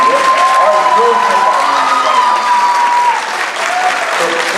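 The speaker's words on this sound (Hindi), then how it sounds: "इनके लिए एक बार फिर से तालियां बजाइए" Audience applause at a theatre workshop closing, a dense, steady wash of clapping from a crowd that holds loud for about three seconds, then eases slightly, with a voice faintly heard over it.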